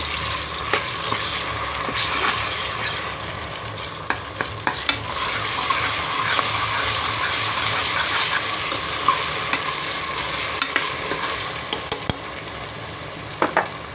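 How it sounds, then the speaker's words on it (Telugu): Onions fry in a pan for mutton curry, giving a loud continuous sizzle with occasional scraping stirs of a spoon against the pan, close up and without voices. "ఉల్లిపాయలు అయితే వేగేయండి"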